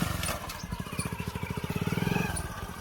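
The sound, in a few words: motorcycle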